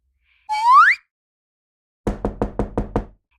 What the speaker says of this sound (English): At the crisp knock-knock from the hallway he'd hear, Aldo would open the door